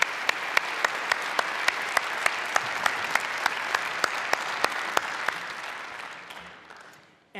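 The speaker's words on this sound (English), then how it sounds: "Applaud yourself." Sustained audience applause at a startup awards ceremony, full and even, with one sharp, regular clap standing out in a steady beat above the crowd before the sound fades away near the end.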